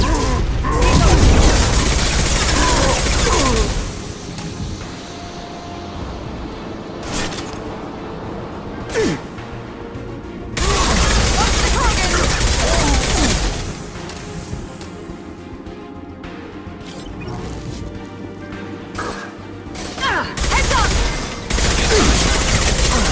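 Loud bursts of sci-fi gunfire and heavy blasts from a Mass Effect Legendary Edition firefight during a Krogan recruitment mission, repeating in waves across the scene with brief lulls between volleys and occasional voices under the shooting.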